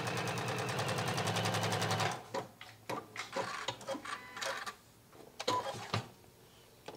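Domestic sewing machine stitching fabric strips for a pouch, a dense loud whir for about two seconds, then stopping into scattered clicks, rustles and handling sounds.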